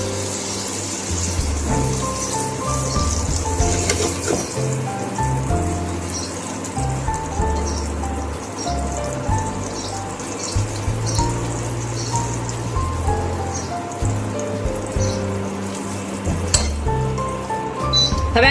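Vegetable batter is poured into hot oil with a mustard-seed, cumin, asafoetida and sesame tempering, setting off a steady, hissing sizzle with bubbling and occasional pops that continues throughout.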